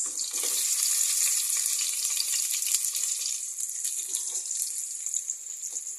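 Ginger and onion frying in a pan, a steady bright hiss and crackle that runs unbroken and fairly loud, close up, with faint clinks of stirring.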